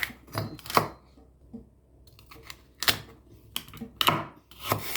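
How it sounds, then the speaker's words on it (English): Knife dicing a celery stalk into cubes on a cutting board, a handful of crisp irregular chops with quiet gaps between them, close and without talk. "Then cut the celery into cubes."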